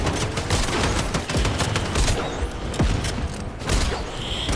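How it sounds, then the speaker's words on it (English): Fortnite gameplay with boom bolt and SMG fire: a steady stream of rapid digital gunshots and sharp impacts, loud and continuous across the whole stretch, with no voices. "got my boom bolt out, just started firing and dealt them a lot of damage."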